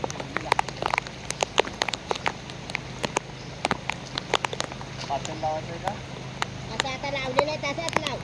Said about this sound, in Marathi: पाऊस पण आतून पण पाऊस पडतोय.